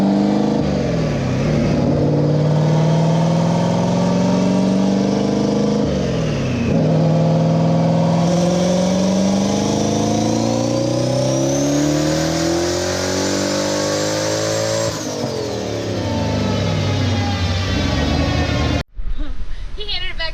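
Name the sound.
car engine revving during a dyno pass on E85 fuel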